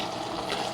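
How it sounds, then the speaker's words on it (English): Water is poured into a metal canteen cup in a quick, close, continuous splashing rush, heard alone for under a second. "you do need to add a little bit of water, because it's too dry."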